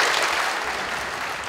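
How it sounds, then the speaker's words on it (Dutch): A symposium audience claps for a speaker, dense steady applause filling the room from start to finish. "Hartelijk applaus voor Maria van Bijsterveld."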